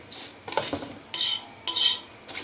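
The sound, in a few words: stirring rice into fried vermicelli in a pot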